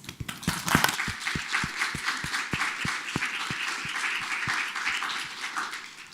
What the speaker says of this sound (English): So I think we should give a massive round of applause to our panellists.